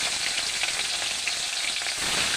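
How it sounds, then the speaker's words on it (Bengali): Two kinds of fish rubbed with salt and turmeric frying in hot oil in a kadai, a loud, continuous crackling sizzle with no voices over it. "মাছগুলো এবার আমি এক এক করে কড়াইয়ে তেলের মধ্যে ছেড়ে দিচ্ছি।"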